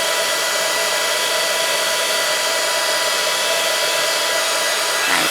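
A heat tool blows hot air to melt embossing powder on card, a loud, constant fan-like roar that holds steady throughout with no pauses.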